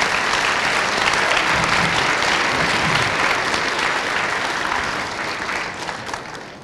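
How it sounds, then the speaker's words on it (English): Loud, dense audience applause for school choirs at a school event, steady clapping from a large crowd that tapers slightly toward the end. "Let's give the RMS choirs one more round of applause."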